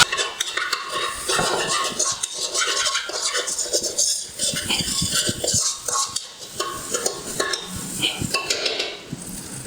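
Egg frying in a pan for mee goreng in a home kitchen, with repeated metal scraping and stirring against the pan, clinks of a spatula and a soft sizzle underneath.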